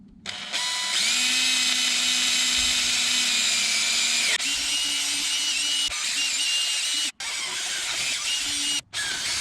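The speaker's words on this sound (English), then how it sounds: "Next size drill bit, here we go." A power drill bores out a stud on a Toyota Celica in the engine bay, a loud, steady high-pitched whine running continuously, with two brief stops before resuming.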